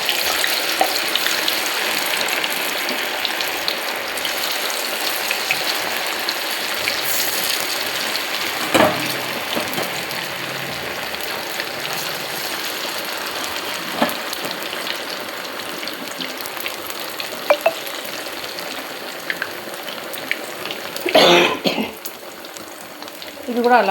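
Chicken pakoda deep frying in hot oil, a dense continuous bubbling sizzle heard close for a long stretch, with occasional clinks and a louder scrape of a utensil near the end, no one speaking.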